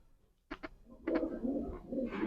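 A Rampuri pigeon coos close by in a breeding setup, two short soft notes followed by a longer, steady rolling coo.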